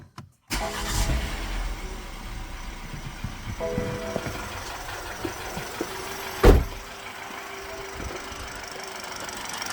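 An ex-police BMW G31 car engine cranks and catches, then settles into a steady idle hum, with a brief louder rev partway through; no talking.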